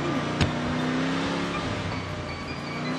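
A moving car in the Ice Scream video game drives along with a steady engine hum and a rising tone, plus one sharp click near the start, heard alone without talk.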